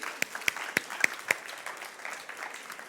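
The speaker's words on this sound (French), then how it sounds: "Merci Asimo, applaudissons-le." An audience claps for the ASIMO robot after a demonstration, a few sharp, sparse claps over a murmuring room that fade into crowd noise within a couple of seconds.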